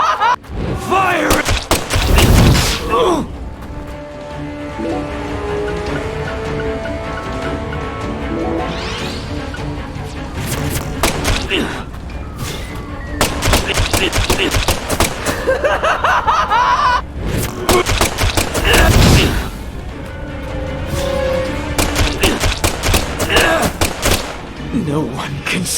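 Bursts of gunfire in a Deadly Premonition 2 boss fight, dense rapid volleys and booming thuds that come in several loud waves, with voices and laughter mixed in among them.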